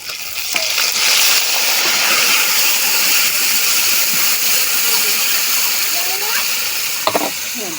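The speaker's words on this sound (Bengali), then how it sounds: "তার জন্য এখানে আমি জিরা রসুন বাইটে নিচ্ছি আর হালকা একটু আদা দিচ্ছি, দিয়ে মাছটাকে এতে কষাই করব।" Pangas fish sautéing in cumin, garlic and ginger paste makes a loud, continuous close-up sizzle and hiss, with a few spatula scrapes near the end.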